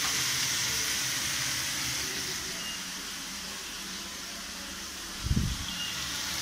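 Vegetables sautéing in oil for rava upma, making an even, close hiss and sizzle that holds steady, with one dull knock near the end and no talk.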